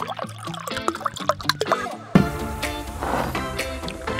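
A fizzy drink is poured after a few scattered clinks and drips. Then a continuous, close pouring and bubbling hiss takes over for the rest of the clip.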